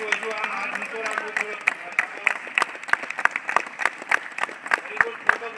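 An audience applauds at an Independence Day event, welcoming a group of boys with sustained, dense clapping from a large crowd, steady and fairly close throughout.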